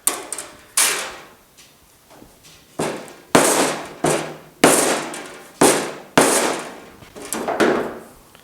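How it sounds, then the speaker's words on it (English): Rubber mallet whacking the lip of a car body panel on a GTO restomod, about eight sharp, loud blows in an irregular sequence with short ringing decays and brief pauses between. "we're just going to give it a couple of good whacks just like that"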